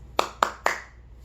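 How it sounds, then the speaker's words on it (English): Three evenly spaced, sharp group hand claps during a Simon Says game at a youth devotional, each clap loud and close, followed by a short quiet tail. "Simon says, clap 3 times."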